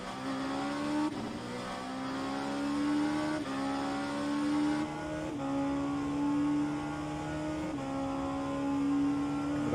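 LMP2 prototype race cars at Sebring, engines howling at high revs with repeated upshifts marked by sharp pitch drops, one car's sustained roar dominating and staying fairly steady in loudness.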